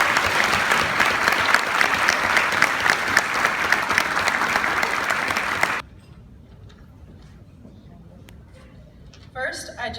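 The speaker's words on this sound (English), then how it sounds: "A big round of applause for Anna Borea" Dense applause from a Hall of Fame induction crowd for an honoree, loud and steady for about six seconds, then cutting off sharply to near quiet, with a faint voice stirring at the end.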